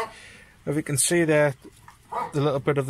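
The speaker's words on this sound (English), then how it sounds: "sorry about the dogs" Dogs barking and yipping near a greenhouse and shack, with several sharp barks and whimpers mixed in among someone talking, loud and close.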